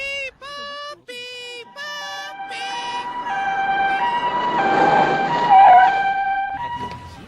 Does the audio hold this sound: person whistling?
no